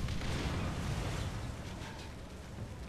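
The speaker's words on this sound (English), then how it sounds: "Just listen to the sound that IS-4 is going to have when it's going to explode." An IS-4 heavy tank blows up in War Thunder, giving a loud, sustained rumbling roar of blast and debris that stays full and dense throughout and fades only slightly toward the end, with no voices.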